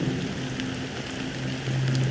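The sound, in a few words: rain falling in the video game Honkai Star Rail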